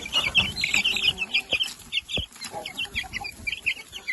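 Several Marans hens clucking and chirping nearby in a busy, overlapping chatter, with a couple of sharp knocks in between.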